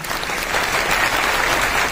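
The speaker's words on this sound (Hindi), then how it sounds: "एक बार इस बेटे के लिए जोरदार तालियां।" Loud, dense applause from a large crowd, continuous and even throughout.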